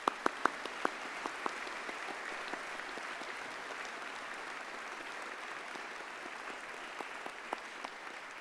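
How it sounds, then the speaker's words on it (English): Audience applause at a university management faculty graduation ceremony, a steady wash of many hands clapping in a large hall, a few sharper nearby claps standing out at the start and end, with no talking. "join me in thanking them with a huge round of applause"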